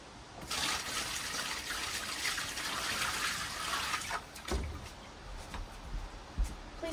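Water drains from a newly installed bathtub in an off-grid bath house, a steady rushing, gurgling wash that fades into quieter trickles and a few soft knocks near the end, with no talking.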